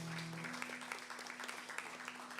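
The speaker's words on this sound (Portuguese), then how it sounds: "Você pode aplaudir ao Senhor mais uma vez?" Church congregation applauding during a worship service, a steady wash of clapping with a sustained organ or keyboard tone underneath.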